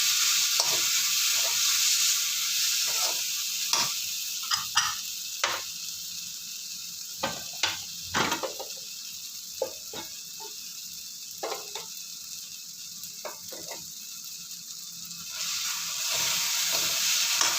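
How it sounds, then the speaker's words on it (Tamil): Ingredients for rasam sautéing in a pan, a steady close sizzle with scattered spoon scrapes and taps against the pan, no talking. "ரெண்டு நிமிஷம் வதங்கட்டும்."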